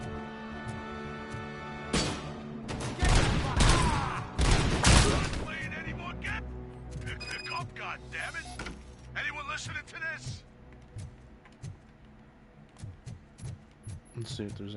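Gunfire from a PS5 shooter plays as a burst of loud, dense shots around the middle, then scattered lighter bangs and game noises with some talk mixed in.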